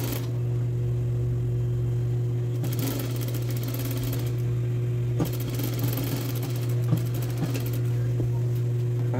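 A home sewing machine runs steadily through a woman's blouse side seam, sewn as a French seam at 3 mm, its motor humming continuously at close range with faint rhythmic needle clatter and no pauses.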